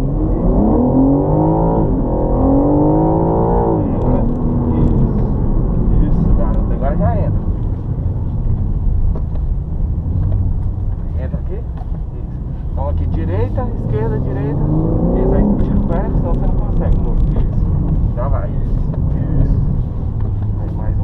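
A BMW M3 Competition launches at full throttle in Sport Plus mode on a track, its engine revving up in rising sweeps, dropping back, then climbing again, loud and close under ongoing conversation inside the car.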